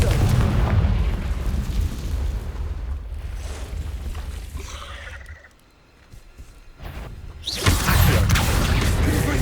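A Confringo blasting spell in Hogwarts Legacy sets off loud, booming explosions with rumbling roars, a brief lull, then another heavy blast.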